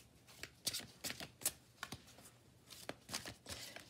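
Oracle cards being shuffled and drawn from a deck, giving a series of soft, crisp papery flicks and riffles in irregular bursts, close and quiet with no talking.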